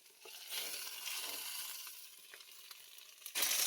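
Banana leaves heat in a hot nonstick kadai on a gas stove, giving a steady soft sizzle with faint crackles. It swells to a brighter hiss near the end, with no voices.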